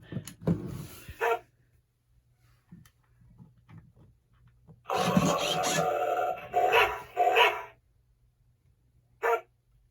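Short electronic yaps from a toy dog, several bursts with pauses between, the longest a sustained rasping run in the middle, fairly close and alone.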